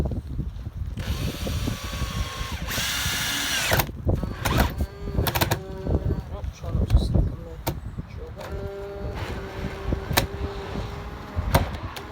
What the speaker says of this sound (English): All we need to do is drill